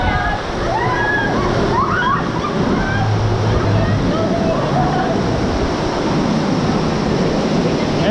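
Waterfall pouring onto riders on a Busch Gardens water ride, a broad rushing splash of water filling the whole stretch while excited voices shout and laugh over it.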